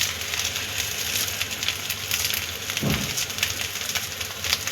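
Idli pieces sauté in a hot pan with coriander, giving a steady, soft sizzle and crackle that persists throughout, with a brief low thump partway through.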